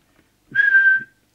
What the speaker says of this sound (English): I'll have to do the whistle test.